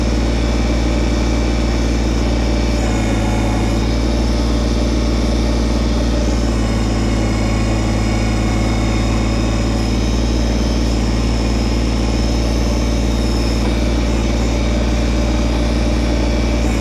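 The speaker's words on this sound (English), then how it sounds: "I'm running right now at probably about half throttle, again, just to keep the engine noise down so I can talk clearly" Kubota BT602 backhoe engine running steadily at about half throttle, a continuous low diesel drone with a constant hum and no breaks for the whole stretch.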